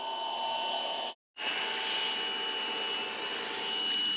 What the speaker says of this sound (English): Pump's not too bad. It's supposed to be a quiet operation.